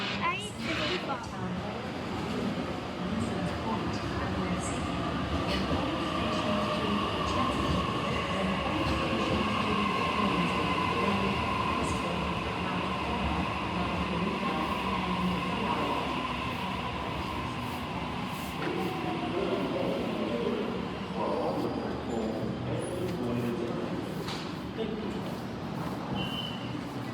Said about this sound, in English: The train on platform 4 And we have our third Waratah.